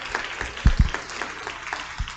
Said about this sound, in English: Let's give our panelists another round of applause this morning